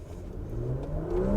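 A 2022 Porsche Macan S accelerates hard in Sport Plus mode, its engine note rising steadily in pitch and loudness as revs climb, heard from inside the car with no talk.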